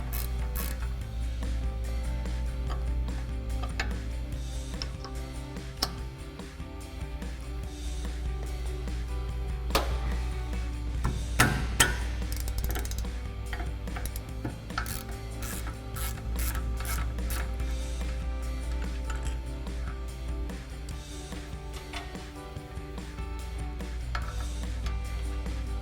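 A ratcheting wrench works a brake bolt loose on a 2014-2018 Chevrolet Silverado 1500, steady rapid clicking that carries on for a long stretch over a low hum, with a few louder knocks partway through.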